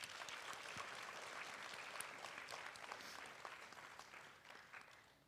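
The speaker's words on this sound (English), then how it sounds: "Let's give them a big round of applause." Sustained audience applause at a Bharatanatyam arangetram dance recital: dense, steady clapping from a crowd that holds for several seconds and thins slightly at the end, with no talk over it.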